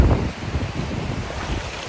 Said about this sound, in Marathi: थांग समुद्र आहे आमच्या पाठीशी.